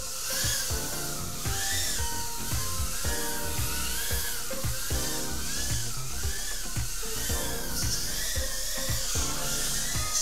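BetaFPV Air v2 FPV drone with a new V2 frame in flight, steady high-pitched buzzing whine of small motors with warbling pitch changes as the throttle shifts, loud and continuous throughout.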